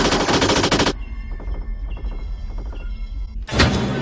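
Film gunfire from the movie Wing Commander: a loud, rapid automatic burst, then a lull of quieter rattling echoes and mechanical thumps, then another loud burst breaking in near the end.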